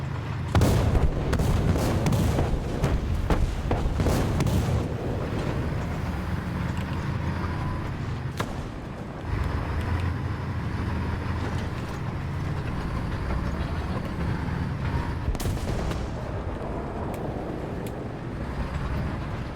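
Tank cannon fire in a tank video game with a T-34 and a Jagdpanzer in the fight: heavy booming shots burst out irregularly over a constant low engine rumble, loud and close, with no talking.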